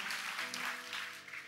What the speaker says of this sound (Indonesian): Kasih tepuk tangan yang paling meriah, tepuk tangan yang paling keras